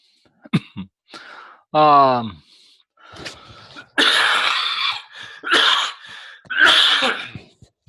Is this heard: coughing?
yes